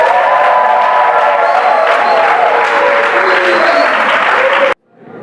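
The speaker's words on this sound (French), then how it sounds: "Applaudissez." Loud applause and cheering erupt from wedding guests right after the couple's vows, a dense roar of clapping with shouts and whoops woven through, ending abruptly.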